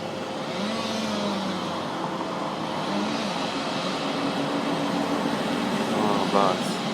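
City bus on a street in New Westminster, present as a steady, close engine roar that swells slightly near the end, with faint voices murmuring underneath.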